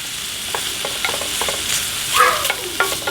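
Bacon fries in a pan for chicken carbonara while a wooden spoon breaks it up, a constant loud sizzle with soft wooden scraping and tapping strokes and no voices.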